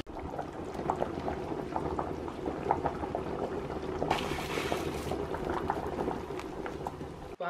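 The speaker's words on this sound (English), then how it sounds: "Whilst my soup is bubbling away, it smells so good." Vegetable soup, a meatless Caribbean-style recipe, bubbling steadily in a pot with a dense, continuous simmering texture at moderate level and a brief brighter hiss midway, with no talking.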